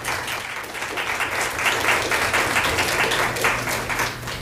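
Applause from the audience at a city council meeting, steady sustained clapping from a group at moderate loudness with no talk over it.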